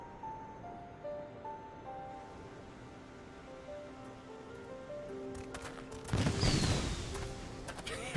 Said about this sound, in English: With the fireworks.